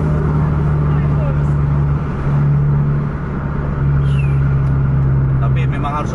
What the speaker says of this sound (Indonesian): Lagi overtake dia tuh, lagi masuk kanan